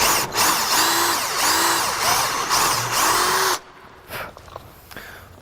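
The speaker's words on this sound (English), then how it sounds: "bump yourself up to a 3/16 drill bit. And what that'll do is let you drill the rivet out" A loud power drill with a 3/16 bit whirs in repeated bursts, drilling out a metal rivet on a car door with rising grinding pulses, then stops abruptly, leaving a few faint clicks and handling sounds.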